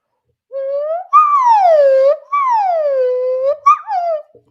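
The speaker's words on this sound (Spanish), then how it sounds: "Esto es la flauta de nariz y suena así." A nose flute plays several sliding, whistle-like tones, each swooping down in pitch and joined by short breathy gaps, loud and close in a quiet room.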